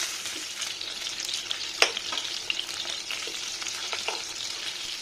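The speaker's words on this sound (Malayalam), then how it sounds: "ഇനി ഇതൊന്ന് പൊരിച്ചെടുക്കാം" Marinated chicken leg pieces coated in cornflour fry in hot oil with a continuous close sizzle, broken by scattered pops and one sharper crackle. No one speaks.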